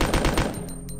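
Gunfire in Resident Evil 2: a short rapid burst of about four or five shots, loud and close, followed by fainter ringing tail.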